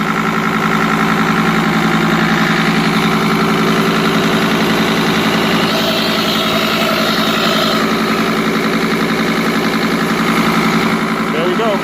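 Engine of a 2005 Sprinter van running steadily on throttle after the propane is switched off, a loud close constant drone with vibration and no change in pace.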